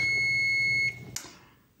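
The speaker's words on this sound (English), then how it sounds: "There's my alarm. My 5 minutes is up." A kitchen timer alarm goes off while rice cooks for a low-carb stuffed pepper casserole, a steady high electronic beeping tone that holds for under a second and stops, followed by a short clatter.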